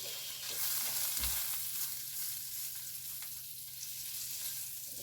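Shrimp frying in a pan while being stirred, a steady close hiss and crackle of sizzling with a soft knock of the utensil against the pan.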